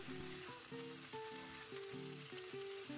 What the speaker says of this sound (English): Now we put the beef and the onions back to the pan. Give them a few tosses to mix everything.